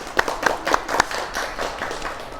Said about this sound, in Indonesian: Tepuk tangan dulu untuk beliaunya.